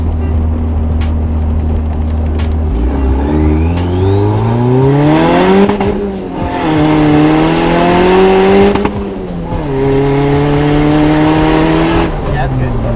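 A twin-turbo car with boost raised to 12 pounds accelerates hard from inside the cabin, engine pitch sweeping up through several gears with brief drops between shifts and a whooshing wastegate, while people talk over it.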